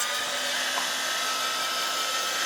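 A hair dryer blows steadily on a freshly made art journal page, a loud, constant airy roar with a whining motor tone that holds unbroken from start to finish.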